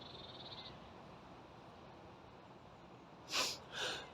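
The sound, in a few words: cough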